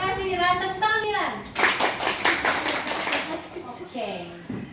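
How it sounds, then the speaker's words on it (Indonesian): Children applauding in a low-grade classroom lesson, a couple of seconds of scattered clapping between stretches of a teacher and kids talking nearby. "Tepuk tangan Ran."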